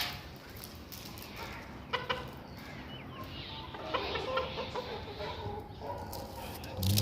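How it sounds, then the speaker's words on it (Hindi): Chickens cluck and squawk intermittently outdoors in a mountain village in Pakistan, close by, while being fed millet, with a dog barking briefly and a person talking in the background. "मुर्गियों को बाजरा डालूं थोड़ा।"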